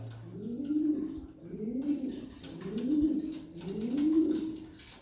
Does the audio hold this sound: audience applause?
no